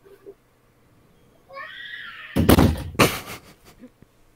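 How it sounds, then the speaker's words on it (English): A door opens with a drawn-out creak, a burst of loud screaming follows in two sharp surges, and then the door shuts, all fairly close with no talking. "Door opens, screaming, door closes."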